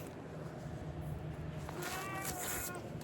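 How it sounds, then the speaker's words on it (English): Several cats meowing close by in a home, short rising calls over steady room noise with some movement around them. "These are my cats."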